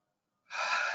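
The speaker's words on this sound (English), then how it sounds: "Let's take a deep breath in." A single deep inhale through the nose during a guided mindfulness breathing exercise, starting after a short silence and holding as a steady airy hiss close to the microphone.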